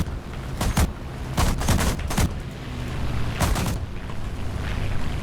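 Aircraft guns in a flight combat video game featuring a Do-335 A-0 rattle out several short bursts, with sharp repeated reports in groups over a low engine drone.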